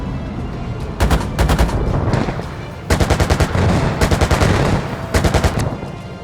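Tank gunfire in Gunner HEAT PC: rapid bursts of heavy automatic fire in several clusters, each a quick train of loud, evenly spaced shots, with a rumbling combat backdrop between bursts.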